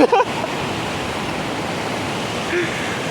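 Steady, full rushing of a river fills the whole clip, loud and close, with a brief voice-like burst at the very start.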